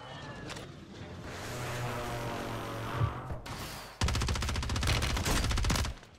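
Rapid bursts of gunfire in Warzone 3, Modern Warfare III multiplayer: a dense stretch of fast repeated shots near the end, with earlier clattering action and a loud crack, all close and loud in game mix.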